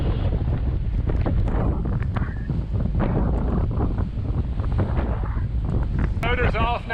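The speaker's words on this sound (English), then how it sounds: "We've got about 16 to 20 knots of wind apparent." Strong wind buffets a sailboat at sea on a passage from Bequia to St Lucia, a constant roaring gust against the microphone with water wash and a person talking over it.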